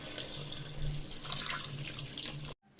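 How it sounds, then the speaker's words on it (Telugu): Water pours steadily into a pot of simmering country chicken curry, a continuous close splashing rush that cuts off abruptly near the end. "so water పోసేసుకున్నానండి"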